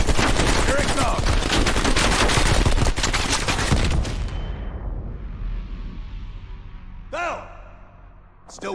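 Dense, rapid machine-gun fire roars close and loud during a Vietnam helicopter mission in Call of Duty Black Ops Cold War, then thins out into distant bursts. Voices shout over the shooting.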